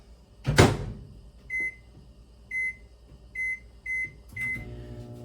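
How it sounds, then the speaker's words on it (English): A microwave oven door thuds shut, then a run of short electronic beeps from the keypad as it is set and started for about three minutes. "put it in the microwave, and cook it for about 3 minutes"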